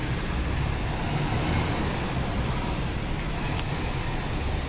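Steady, dense roar of buses and road traffic at a Perth bus stop, a broad continuous wash of engine and tyre noise with no clear individual passes.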